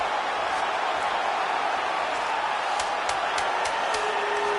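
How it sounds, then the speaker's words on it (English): A virtual arena crowd in the UFC 5 video game cheers and roars during a women's fight as a fighter reverses position, a broad steady wash of crowd noise with a few sharp impacts near the end. "crowd pops as she reverses position"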